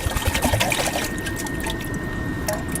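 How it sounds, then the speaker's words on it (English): Fresh water pours and trickles into a pot sitting on a Biolite camping stove in the woods, a close, bright liquid splashing that settles into a quieter steady dribble. "I put last of me fresh water in"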